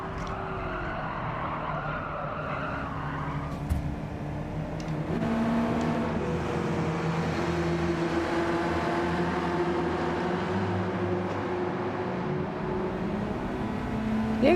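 Racing car engine in Gran Turismo 7, steady harmonic drone that holds a constant pitch, then shifts and settles as the throttle is lifted, with a faint change in tone near the end; no talking.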